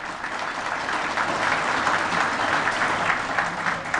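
A seated audience at a Siirt foundation advisory board meeting applauds to welcome a speaker to the stage, a dense, steady wash of many hands clapping at once, loud and sustained, with no voices on top.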